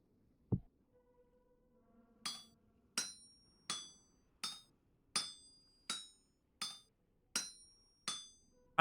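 Metallic hammer strikes ring out as a chisel is crafted in a video game, a low thud first and then nine evenly spaced bright clinks, each decaying quickly, close and fairly quiet.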